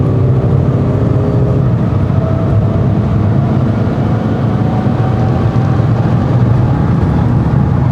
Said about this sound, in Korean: 이렇게 악셀을 쭉 밟아봤을 때도